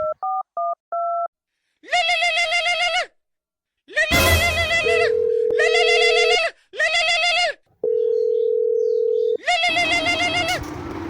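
A telephone handset dials a quick run of keypad beeps, then near, loud tone bursts and two long steady dial tones sound alone, with no voices.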